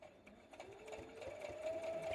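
A sewing machine runs steadily while stitching a quilt, its motor whirring close by at a low level and rising slightly in pitch as it keeps going.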